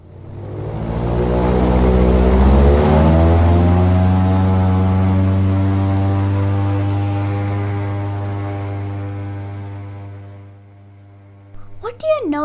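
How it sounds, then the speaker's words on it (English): An airboat's propeller spins up into a loud, droning roar that swells, holds steady for several seconds, then fades out, followed by a brief voice at the end. "It's the propeller that generates wind."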